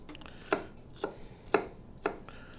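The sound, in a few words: dicing rabbit meat with a knife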